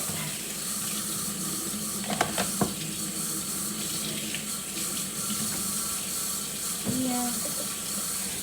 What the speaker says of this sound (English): Rinse the sink out.